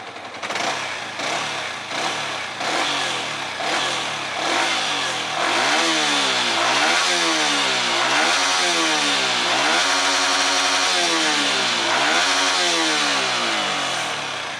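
A motorcycle engine runs during lockdown maintenance, with carbon droplets spitting from the exhaust as it heats up. It idles at first, then revs repeatedly in rising and falling surges, loud and close.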